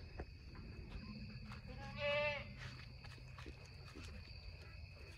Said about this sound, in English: Y'all see that new goat?